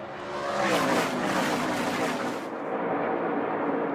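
NASCAR pickup trucks running side by side into turn 3 at speed, a loud sustained engine roar that swells and then tapers slightly as the pack passes, with no talk over it.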